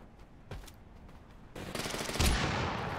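Shotgun gunfire in the battle royale video game TABS: faint scattered shots at first, then a louder burst of blasts that swells near the end.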